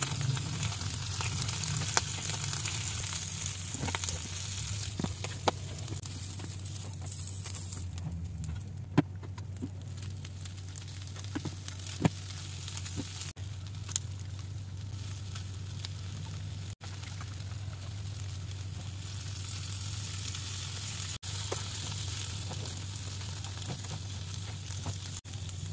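Angkringan-style intestine satay brushed with sweet soy and sesame-oil glaze crackles on a grill, a steady close hiss dotted with sharp pops and snaps that runs throughout with no one speaking.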